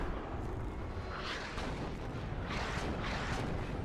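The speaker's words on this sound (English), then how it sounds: "So good artillery strikes there" Artillery strikes in the WARNO wargame, a dense rumbling barrage of distant muffled explosions rolling over one another in several swells, fairly quiet and continuous.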